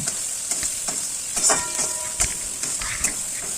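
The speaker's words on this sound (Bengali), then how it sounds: "এবার আমি পেঁয়াজগুলো দিয়ে দিলাম পেঁয়াজটাকে আমি হালকা হালকা করে ভেজে নেব" Onions frying lightly in a pan while fish-head muri ghonto is cooked, a steady close hiss of sizzling oil with a few scattered stirring clinks and scrapes, no talking.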